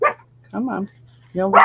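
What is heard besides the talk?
dogs barking at a neighbor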